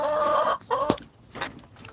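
Chickens cluck close by, a loud drawn-out call followed by shorter squawks and softer clucks that fade toward the end, with no talking.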